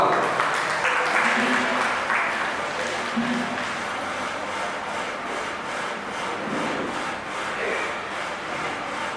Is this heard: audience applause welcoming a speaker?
yes